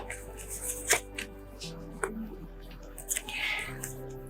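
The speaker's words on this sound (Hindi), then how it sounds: "तो मज़ीद एक दफ़ा शफल करते हैं और निकालते हैं आप लोगों के 3 कार्ड्स" Tarot cards being shuffled by hand, with soft, irregular papery riffles and taps over a steady low hum.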